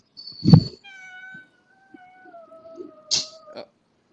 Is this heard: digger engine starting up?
no